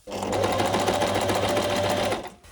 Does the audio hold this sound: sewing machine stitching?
yes